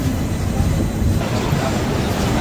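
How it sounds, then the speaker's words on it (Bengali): Kolkata Sairang Express pulling into Naihati Junction, a steady, loud rumble of rolling rail carriages with continuous low wheel noise and no voices. "আমাদের ট্রেন এখন নৈহাটি জংশন স্টেশনে প্রবেশ করছে।"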